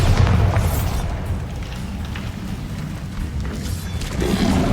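A Bombarda spell explodes in Hogwarts Legacy with a loud, heavy boom that opens the sound. A deep rumbling roar follows and carries on, and a second surge comes near the end.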